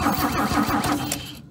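An old Holden VC ute engine cranking during a start attempt, a steady, close, rhythmic churn of the starter motor turning over without catching, then cutting off.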